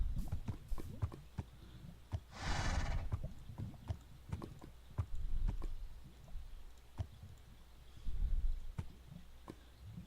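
Horse hooves clip-clop in the Minecraft video game, a series of sharp, evenly spaced knocks near and fairly loud, with a brief breathy burst partway through.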